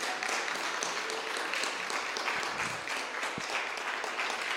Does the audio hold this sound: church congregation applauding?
yes